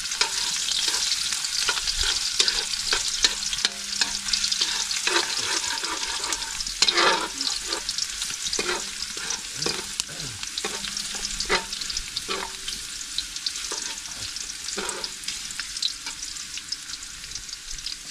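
Garlic and ginger sizzle steadily in a hot pan for the full stretch, the oil hissing continuously while a spatula stirs and scrapes with intermittent clatters.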